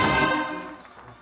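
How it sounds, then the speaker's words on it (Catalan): Audience applause fills a theatre hall at a comedy show, a dense wash of clapping that starts loud and fades over about a second. "Rebem amb un fort aplaudiment a Eduard Ribes"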